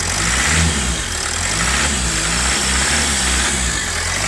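A Toyota Etios engine, just repaired after a no-start fault with code P1604, idles loudly up close. It is revved up and down several times in smooth swells, with no talk over it.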